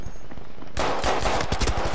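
A rapid burst of gunfire erupts in a Battlefield 5 multiplayer match, loud and close, with sharp repeated shots rattling after a brief quieter lead-in.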